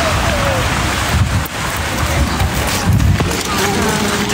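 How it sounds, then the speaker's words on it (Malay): Steady rain falling outdoors, a dense continuous hiss with scattered drops, heard throughout under faint background voices. "Sebab sekarang hujan."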